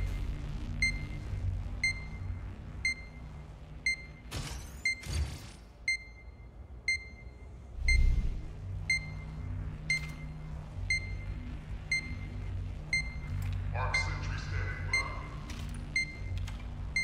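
A planted Zeus bomb in the game Spectre Divide beeps at a steady, regular pace, sharp and clear, amid thuds, gunfire and other game noise.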